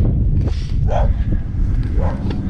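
Several dogs bark at passing bike tourers on a road in southern Armenia, loud repeated barks and yips over a rough, windy outdoor background, with no talking.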